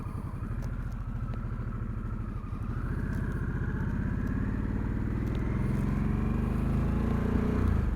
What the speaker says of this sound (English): So you can hear it picks up my engine pretty well.